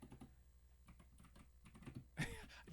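Rapid clattery typing on a computer keyboard, soft irregular key clicks running continuously with a louder burst of keystrokes near the end.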